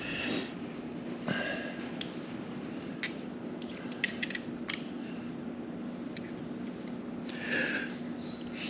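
A socket ratchet works on a Harley-Davidson motorcycle in a garage, with a handful of sharp clicks and metallic ticks scattered over a steady low hum.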